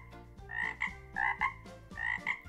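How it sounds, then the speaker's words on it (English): A frog croaking in three rhythmic bursts of throaty, buzzing calls, close and clear with no talking, used as a sound effect in a children's picture-book read-aloud. "I see a green frog looking at me."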